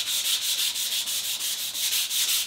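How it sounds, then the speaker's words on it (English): Sandpaper rubs over a planed wooden board with raised end grain in a quick, even back-and-forth rhythm, close to the microphone and fairly quiet, with no talk. "So now I'm sanding it"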